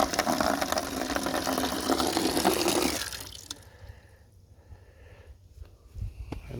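Water pours from a rain barrel through a valve on a homestead in a loud, steady gush that stops after about three seconds, followed by quieter dripping and faint handling sounds.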